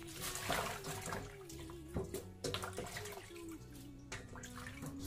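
Water drains off freshly rinsed, torn tea tree mushrooms, a soft continuous trickle and splash, fairly quiet, with background music underneath.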